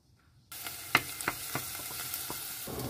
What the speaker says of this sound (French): Avec un peu d'huile d'olive, je vais sauter les échalotes.